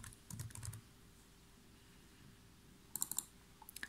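Typing on a computer keyboard: a short burst of quick key clicks, a pause, then a second cluster of sharp taps and a few final strokes, close and fairly quiet, with no speech.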